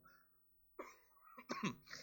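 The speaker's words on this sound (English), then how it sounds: "I will try and not cough the whole way through this" A few quiet coughs, one short hack followed by a harsher burst, with a brief silence before them.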